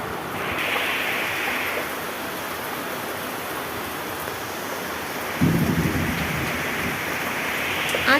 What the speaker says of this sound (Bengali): আজ প্রচণ্ড বৃষ্টি